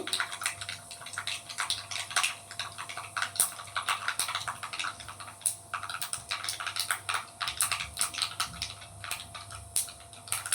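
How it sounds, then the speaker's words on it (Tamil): Mustard seeds splutter in hot oil while tempering for coconut chutney, popping in sharp irregular crackles and snaps that come thick and fast for the whole stretch, close and fairly loud. "நல்லா கடுகு பொரிய ஆரம்பிச்சிடுச்சு."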